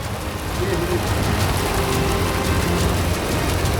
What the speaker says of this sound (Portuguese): Agora é só frio e chuva. Agora o negócio engrossou muito, meu velho.